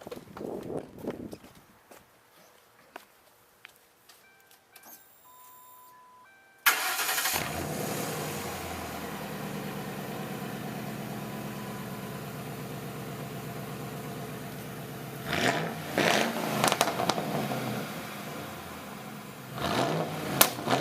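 A 2008 Mercury Grand Marquis with straight-pipe dual exhaust cranks and fires up after a quiet stretch, then settles into a loud, rumbling idle, with a few sharp revs blipping near the end.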